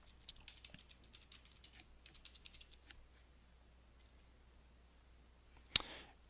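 Quiet bursts of typing patter on a computer keyboard during a login, irregular clusters of light key clicks followed by one sharper, louder click near the end.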